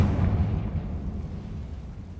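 A Confringo fire spell bursts in Hogwarts Legacy inside an old tomb, a loud deep boom that rumbles on as a low roar across the whole moment, with no voices.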